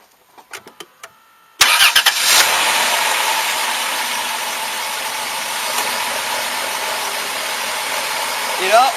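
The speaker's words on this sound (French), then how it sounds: "Donc il faut qu'on démarre la voiture." A car engine cranks and catches with a sudden loud start, then settles into a steady, close idle that runs on continuously, with a few faint clicks just before it fires.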